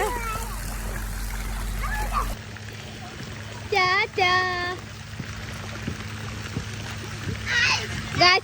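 Children splash and play in water, with irregular splashes and trickling close by while kids' voices and adult talk carry over the top, alongside brief bursts of high squealing.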